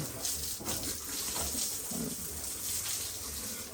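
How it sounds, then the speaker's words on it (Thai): Water runs steadily from a hose or tap while pigs are bathed in their pen on a hot evening, a continuous splashing gush at moderate distance with no voices. "อาบน้ำให้หมูตอนเย็นพี่น้อง"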